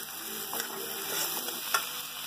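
Chickpea curry masala, made without coconut, is stirred in a hot pan, soft scraping strokes over a steady low sizzle with a couple of sharper clinks of the spoon.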